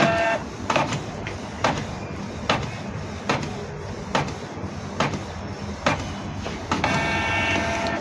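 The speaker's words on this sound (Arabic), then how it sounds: "انت شايف هنحط الورق بتاعنا فوق عادي جدا ونطبع تيست الوان" A Canon Pixma inkjet printer prints a colour test page, its print head clacking in regular repeated strokes about every half second over a steady mechanical whir, close and fairly loud.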